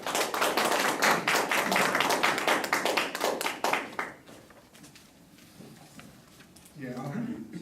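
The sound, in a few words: applause welcoming a speaker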